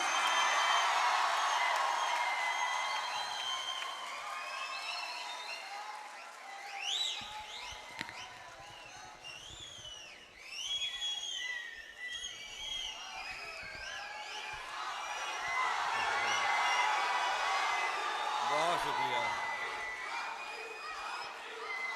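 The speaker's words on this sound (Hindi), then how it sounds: "आपकी सीटियाँ मुझ तक पहुँच गईं और आपकी तालियां भी पहुँच गईं" An audience at a poetry recital applauds and whistles for a poet, cheering swelling, fading into chatter, then rising again; a voice speaks briefly in the middle.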